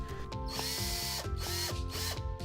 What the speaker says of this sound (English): Finally, screw it in. I use these deck screws because they don't rust